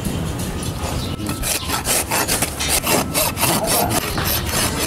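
A farrier pares a horse's hoof with a hoof knife, the blade scraping up close in a run of repeated rasping strokes with no talk.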